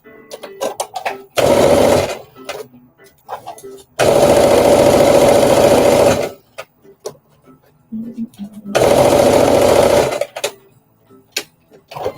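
A sewing machine tacks down jumpsuit fabric in three loud, buzzing bursts of rapid stitching, with short pauses and small handling noises between them.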